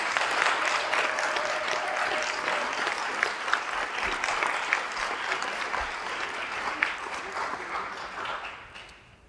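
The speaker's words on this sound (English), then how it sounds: "Can we give them a round of applause," Warm applause from an audience at a conference's closing remarks, a dense wash of clapping with a few sharper claps standing out, gradually fading toward the end.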